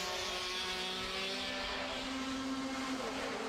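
Racing karts at a UK championship round at Warden Law drive through the opening corner, a steady loud buzz of several two-stroke engines with tones shifting slightly as they brake and rotate, continuous and close throughout.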